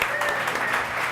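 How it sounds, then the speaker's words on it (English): Audience applause at a youth education event on the future of school, a dense steady clapping wash filling the short moment at full strength. "Give them a round of applause."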